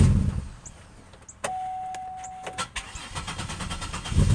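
A car engine cranks with a rapid whirring starter, catches and settles into a steady idle, with a few clicks and clunks around it and a faint tone running underneath.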